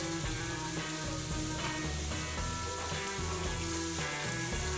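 Butter hits a hot cast iron skillet beside a steak and sizzles steadily for the whole stretch, a dense hiss at even loudness with sustained musical-sounding tones underneath.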